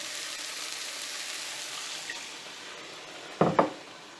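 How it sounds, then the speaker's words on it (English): Water pours into a pan of frying brinjal curry, a steady hiss and splash that fades, followed by two short clatters near the end. "Now I'm going to add 2 cups of water."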